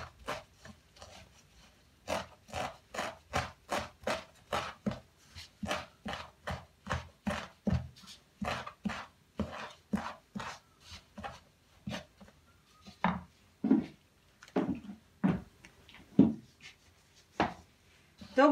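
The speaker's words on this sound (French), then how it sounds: "Donc, on cisèle finement." Fresh herbs being finely chopped with a knife on a board, a steady run of quick close taps that turns more irregular toward the end, with occasional soft talk.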